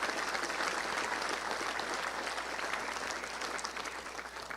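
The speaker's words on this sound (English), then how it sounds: "And how about a round of applause for Coach Bielema's beautiful baby, Briella?" An audience at a touchdown club luncheon applauds, a dense, steady round of clapping from many hands that stays loud throughout and tapers slightly at the end.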